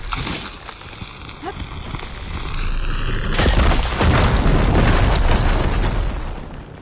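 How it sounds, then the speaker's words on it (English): A big explosion blasts open a blocked tunnel in Horizon Forbidden West, a loud rumbling boom that swells and lingers for several seconds after a tonal, musical lead-in. "Should be able to blow up that fire burn."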